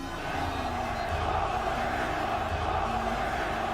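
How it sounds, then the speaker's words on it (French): A New York Knicks home crowd in an NBA arena chants at Trae Young, a loud, sustained roar of massed voices with a rhythmic chant pulsing through it. "on commence à entendre la foule crier un truc"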